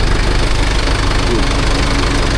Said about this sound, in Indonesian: Nah nih suara mesinnya itu teman-teman.